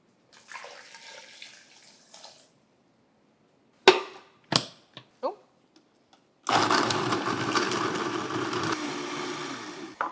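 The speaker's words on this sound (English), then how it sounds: "We're going to add it into the blender and blend this up." A loud, steady blender whirs for several seconds after some quiet rustling and a few sharp clicks and clatters.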